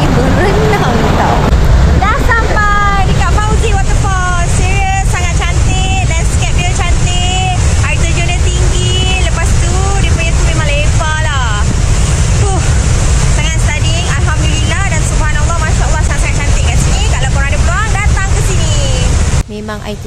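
Continuous broadband rush of the Fauzi waterfall in Maliau Basin, loud and steady throughout, with people talking and calling out over the roar.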